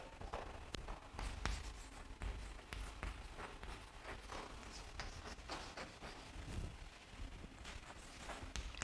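Pen scratching out a formula by hand during an accounts lesson, heard close and faint as a steady run of short taps and strokes with no talk.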